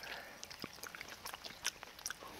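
Crunchy, wet chewing of charcoal-grilled whole shark, caught near a beach, with scattered sharp bites and crackles close to the mouth in a quiet setting.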